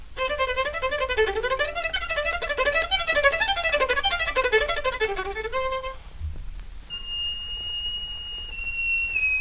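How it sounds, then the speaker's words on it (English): A violin plays quick harmonic notes that sound like soft, pure whistling, rising and falling in rapid runs, then sustained high tones after a brief pause. "Now that sounds like a soft whistle, hardly like a violin at all."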